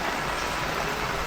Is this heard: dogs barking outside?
no